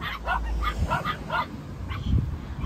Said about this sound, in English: Oh, there are dogs in there too.